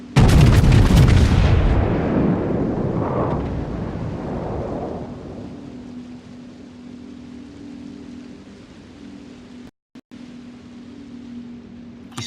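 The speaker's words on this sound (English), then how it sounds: "Matt, can you shoot that Hindi?" Heavy naval gun salvo fired at an enemy Hindenburg battleship during a World of Warships match, a loud booming blast with rolling thunder-like reverberation that fades over several seconds into a steady low engine hum.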